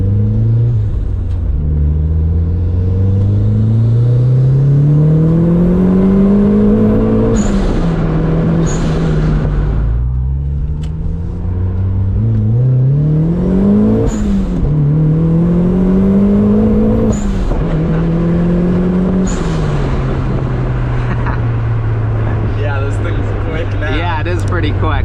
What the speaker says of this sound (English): the wastegate on this thing now just whistles like crazy because there's so much extra exhaust going through it